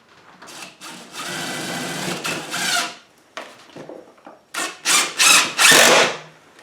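A power tool whirs in a long burst, then several short quick pulses follow, while a chicken coop window frame is tacked in place. Small knocks sound between the bursts and no one speaks.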